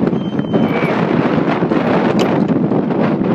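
Strong, steady wind on a hilltop at Allermuir, outside Edinburgh, buffets the microphone with a continuous roaring rumble, loud and unbroken throughout.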